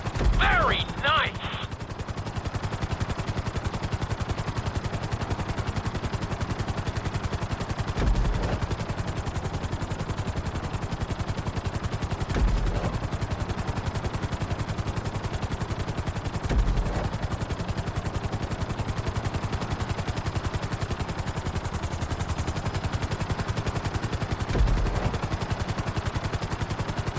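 A helicopter in Grand Theft Auto V, flown during a flight school landing on a helipad, drones steadily with a continuous rotor hum and engine whine, with occasional dull thumps and a brief electronic chirp near the start.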